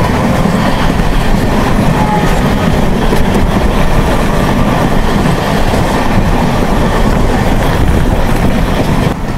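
Sampark Kranti Express running through the Konkan region of India after leaving Panvel, with a steady, loud rumble of wheels on rails and faint clickety-clack from the carriages, heard from on board with no talk.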